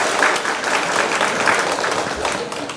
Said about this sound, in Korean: 우리 원재선 총장님께 박수 한번 쳐드리면 좋겠습니다.